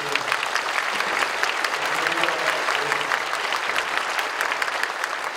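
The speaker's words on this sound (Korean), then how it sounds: "여러분 감사의 박수를 해주시면 좋겠습니다" Sustained, dense applause from a large audience at a church prayer gathering honoring Korean War veterans. It runs loud and steady throughout with no voices over it.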